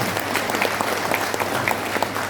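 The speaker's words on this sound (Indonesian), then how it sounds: "Itu boleh tepuk tangan yang keras saudara." A crowd at a party rally claps loudly and steadily, a dense, continuous wash of applause that fills the whole moment without any speech over it.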